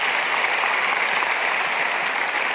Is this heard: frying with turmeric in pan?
no